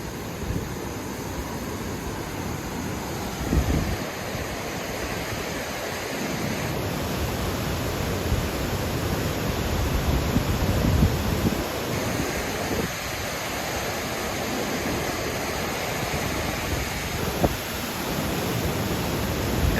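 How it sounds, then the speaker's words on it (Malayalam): A river at Chooralmala, Kerala, rushes and foams with a steady, loud roar of churning water that carries on without a break. "നുരഞ്ഞ് പതഞ്ഞ് ഒഴുകുകയാണ്"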